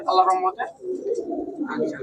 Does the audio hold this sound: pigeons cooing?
yes